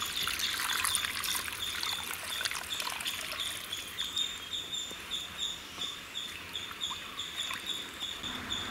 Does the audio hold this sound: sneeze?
no